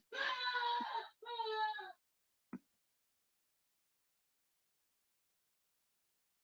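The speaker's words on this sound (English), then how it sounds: "My mom was screaming for some reason." A woman screams from another room: two long, harmonic, wailing cries in quick succession, then a brief short sound and near silence.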